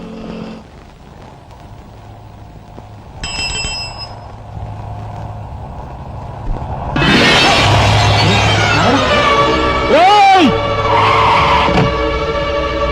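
Car tyres skidding on a road, a loud shrieking squeal that swells and bends in pitch with engine noise beneath, after a quieter stretch with a brief bell-like ring, people talking around it.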